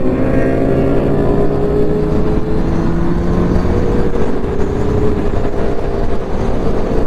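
A Kawasaki H2 motorcycle accelerates away with a loud, rising engine whine, its pitch climbing steadily through the gears over a constant rush of riding noise.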